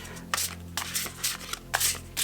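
A chunky Old Gods tarot deck is shuffled hand over hand, producing repeated soft papery swishes and slaps in an uneven rhythm, close and quiet with a low hum underneath.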